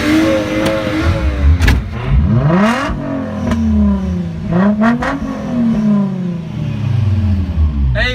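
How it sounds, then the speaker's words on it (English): At a car meet, a car engine revs loudly and up close in repeated rising and falling bursts, climbing to high pitch and dropping back to idle several times. "Keenan, rev it."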